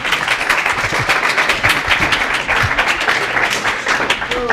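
Students in a chemical engineering lecture hall break into a big round of applause as a man walks in, dense clapping close by with some voices mixed in throughout.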